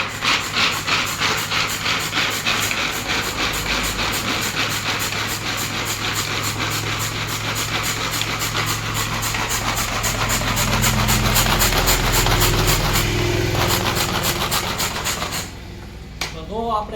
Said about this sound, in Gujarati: આને મિક્સરમાં હાંકી નાખશું